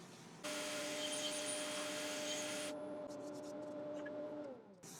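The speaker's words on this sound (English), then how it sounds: "I'll just use the drill and lightly sand it" Drill-driven sanding of a wooden ladle held in a lathe chuck produces a steady, fairly quiet whirring rub with a constant tone. It stops abruptly, followed by light clicks and scuffs.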